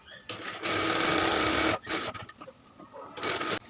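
A sewing machine whirs steadily for over a second while stitching a trouser ticket pocket, stops, then gives a short final burst, with a voice talking in the quieter gaps.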